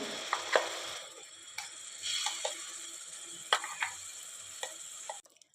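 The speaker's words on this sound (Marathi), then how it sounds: "तूप छान गरम झालं की त्यात आपल्याला हे मिश्रण घालायचं आहे" A fresh coconut mixture goes into hot ghee in a pan and is stirred, giving a steady close sizzle broken by repeated scraping clicks of the spoon before it cuts off abruptly.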